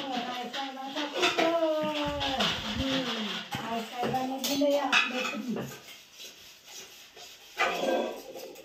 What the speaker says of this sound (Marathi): अशी भांडी धुवायची